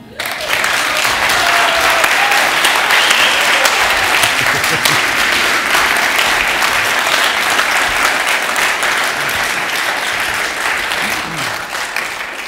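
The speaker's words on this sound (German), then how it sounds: "der Beifall sagte schon alles" Sustained audience applause in a theater barn in Cottbus after an award-winner introduction at a talk event, dense clapping filling the room loudly and evenly for about twelve seconds, tapering slightly near the end.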